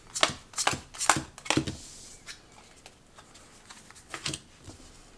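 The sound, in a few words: shuffling a deck of cards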